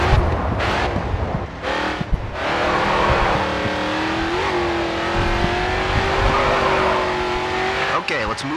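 A race car in the GRID 2 video game roars loudly and continuously as its engine pitch rises and falls, with tire squeal as it slows for a turn.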